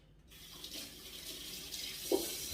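Tap water runs steadily into a sink during hand washing in a home kitchen where a Thai rice noodle salad is being made, a soft continuous wash with a small splash near the end and no talking.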